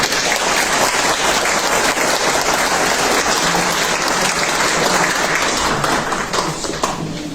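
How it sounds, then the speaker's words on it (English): Loud, sustained applause from a sporting hall of fame ceremony audience for an inductee, a wheelchair basketball player, dense and even throughout before easing slightly at the end. "Round of applause to Troy Andrews."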